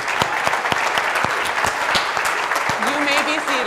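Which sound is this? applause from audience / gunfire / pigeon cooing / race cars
applause from audience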